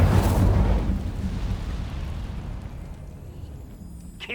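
The Incendio fire spell is cast in the video game Hogwarts Legacy, a loud whooshing burst of flame at the start that fades into a long rumbling, crackling roar, ending with a faint bright chime.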